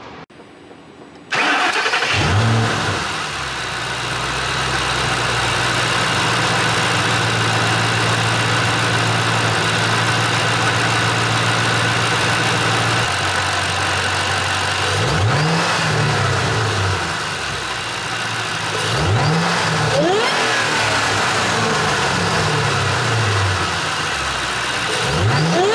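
A 2010 Ford GT500 with low boost cranks and fires up, then holds a loud, steady idle before several sharp throttle blips rev the engine up and let it fall back, heard close and alone.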